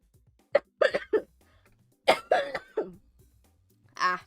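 A few harsh, short coughs in two clusters, with a throat-clearing burst near the end, fairly close and quiet, from someone who is sick.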